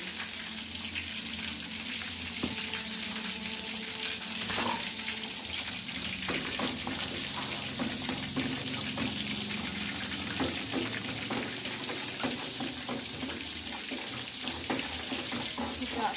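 Chicken katsu frying in a pan over a low flame, giving a steady, fairly quiet sizzle and crackle with occasional scrapes and clicks of stirring throughout.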